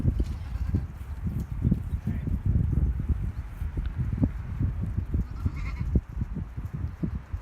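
A herd of farm goats with young kids, heard as close rustling, shuffling hooves and occasional bleats over a steady outdoor background.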